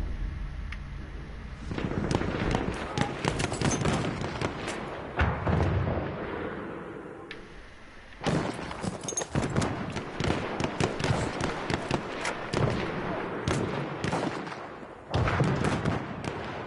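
Enemy gunfire from the rocks in the PS4 game War Horse: dense, continuous crackling volleys of shots, loud and close, with brief lulls between bursts.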